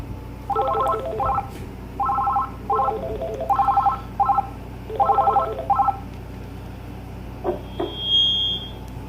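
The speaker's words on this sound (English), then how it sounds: "let's go ahead and test out the intercom. From the base to the cabin handset" Dialing tones from an AT&T EP5995 base placing an intercom call to the cabin handset, bursts of rapid beeping tones in several clusters, followed by a short electronic chirp and a faint high tone.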